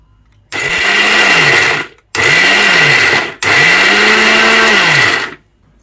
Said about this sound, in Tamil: இதை போட்டு பேஸ்ட்டாக அரைச்சிக்கலாம்.